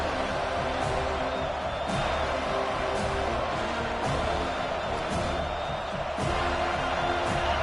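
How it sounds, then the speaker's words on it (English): Steady home crowd roar fills a stadium in the college football game NCAA 25, a dense continuous din with faint rhythmic swells and occasional sharp accents, loud and sustained throughout. "Man, this crowd really affecting the football game."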